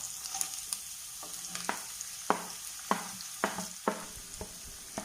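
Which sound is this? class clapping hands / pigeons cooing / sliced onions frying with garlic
sliced onions frying with garlic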